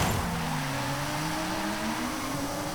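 A BMW's engine revs in a Forza Horizon 5 race, rising harmonic engine tones climbing in pitch under road and tire noise, loud and continuous throughout.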